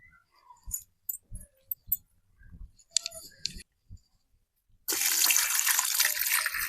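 Water poured over green chillies on a plate, a steady splashing rush arriving in the last two seconds after scattered light clicks and handling knocks.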